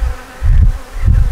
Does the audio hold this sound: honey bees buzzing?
yes